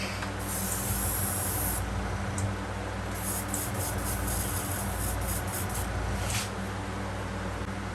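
An airbrush sprays paint onto a crankbait fishing lure in a repaint job, giving close, hissing bursts of varying length over a steady low hum, with a longer stretch of spraying near the middle.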